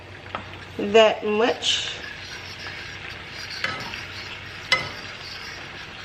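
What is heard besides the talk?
stirring garlic sizzling in foaming butter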